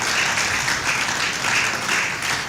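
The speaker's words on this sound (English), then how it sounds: "Please keep clapping until they are seated." A conference hall crowd at the PWAN Group Eagle Summit 2022 in Dubai applauds as the chairman and president return to their seats, dense continuous clapping filling the room without a break.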